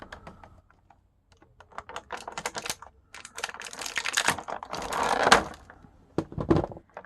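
Crinkly plastic toy packaging is pulled and removed, producing close, irregular bursts of rustling and crackling separated by short pauses, with no talking.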